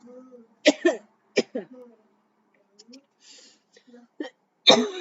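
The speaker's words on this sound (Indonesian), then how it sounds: "Oh, sakit sekali batuku ini guys" A man coughs several times in short, harsh bursts, separated by pauses and small breaths, close to the microphone and otherwise quiet.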